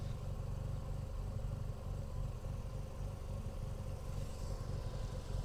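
A Mazda RX-7 rotary engine with a fuel pressure regulator fault, smoking and burning oil, idles roughly with a steady low throbbing drone and uneven pulsing, close and continuous throughout.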